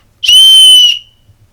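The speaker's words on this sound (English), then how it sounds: "And a whistle." A small whistle built into a compact survival multi-tool blown once, a loud piercing high tone held steady for about three quarters of a second before cutting off.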